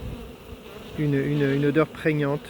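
A swarm of honey bees being hived in France gives off a close, buzzing hum in short bursts, heard under and between a few words from a person speaking.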